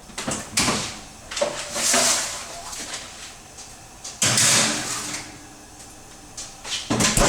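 An oven door and rack clatter as giant meatballs are put in to bake, a few close thuds and scraping slides spread across several seconds, with quieter kitchen handling in between.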